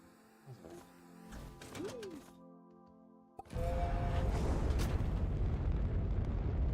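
A catalyst plant exploding in Astroneer: after a few tonal game sounds and a short silence, a sudden loud burst gives way to a sustained, rumbling hiss that carries on to the end.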